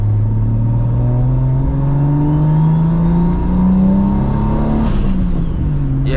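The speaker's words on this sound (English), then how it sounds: "let's see how the turbo spool" Big-turbo MKIV Toyota Supra with a straight-pipe exhaust accelerating hard from inside the cabin, a loud rising engine drone with a climbing turbo whine, then a brief shift break near the end before the pull resumes.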